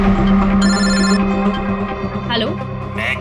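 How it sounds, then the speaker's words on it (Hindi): A telephone rings with a bright, repeated electronic trill over a steady background hum, with brief voice-like sounds near the end, in a TV crime drama scene. "कभी भी फोन आ सकता है उन लोगों का।"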